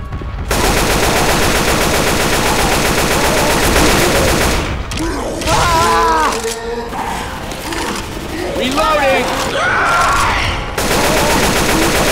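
Rapid automatic gunfire in Left 4 Dead 2 rattles loud and continuous for several seconds, then comes in shorter bursts with voices calling out between the shots.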